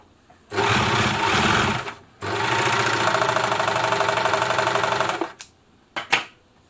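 A Babylock Jet-Air BLE1(DX) serger overlocker runs in two loud whirring bursts, the first short and the second several seconds long, each a fast mechanical stitching hum, followed by a few brief clicks.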